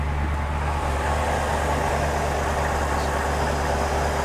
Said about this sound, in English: Andrew, start it up for us so we can hear it run.